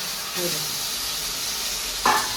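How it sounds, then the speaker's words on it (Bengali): Pieces for a vegetarian cabbage dish sizzle in hot oil in a pan during a second frying, a steady broadband hiss with a brief louder crackle near the end and no talking. "আরেকবার ভাজতে হবে"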